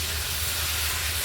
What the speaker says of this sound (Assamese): এয়া মই পানীখিনি দি দিলোঁ